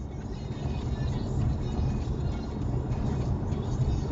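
A car towing a trailer accelerates, its engine giving a steady, loud low rumble that holds throughout with no clear changes in pitch.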